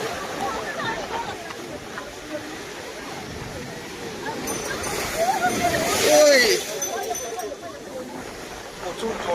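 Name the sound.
strong tide water surging and splashing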